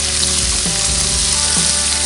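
Lime juice squeezed over sausage, bacon and potatoes sizzles loudly in an old cast iron skillet over an open fire, a steady close frying hiss with no talking.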